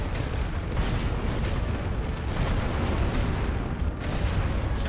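Artillery fire in the WW1 strategy game The Great War: Western Front: a continuous rumbling barrage of overlapping booms and distant blasts, loud and dense throughout, with no speech.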